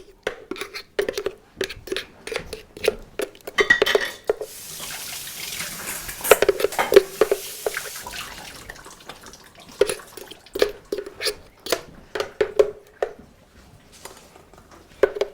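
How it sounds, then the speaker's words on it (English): Running water at a kitchen sink as hands are washed among dishes, with splashing, dripping and intermittent clinks and bumps up close, and a steady faucet stream in the middle stretch. "wash my hands."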